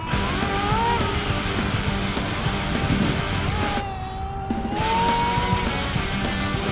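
An HPI Nitro RS4 radio-controlled nitro car with an MT2-18ss engine runs at speed, its high, buzzing engine whine holding steady and loud, dipping briefly as it passes off and then climbing back up.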